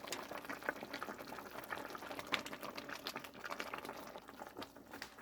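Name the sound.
braised aged kimchi stew boiling in pot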